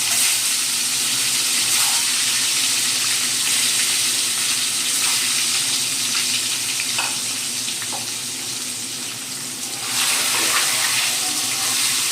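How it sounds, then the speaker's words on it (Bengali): Eggs fry in hot oil in a wok for an egg curry, giving a loud, steady, continuous sizzle up close that barely changes throughout, with no talk. "তেলটা গরম হয়ে গেছে, এবার আমি ডিমগুলো ভেজে নেব"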